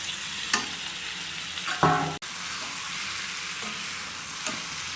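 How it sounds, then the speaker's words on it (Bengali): Fried cauliflower and potato being stirred in a hot sizzling pan, a steady fry hiss under a few scraping spoon strokes and one sharp clack. "এবারে এর উপর আমি দিয়ে দেবো ফুলকপিগুলো, যে ফুলকপি আর আলু ভেজে রেখেছিলাম ভালোভাবে সেটা দিয়ে দেবো।"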